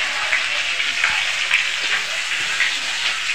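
Food frying in a pan, a loud close hiss and crackle with scattered pops, steady throughout without speech.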